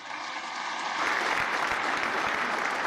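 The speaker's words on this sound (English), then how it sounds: "That's an applause line." An audience breaks into applause about a second in, swelling into a loud, dense, steady clatter of many hands clapping that lasts to the end.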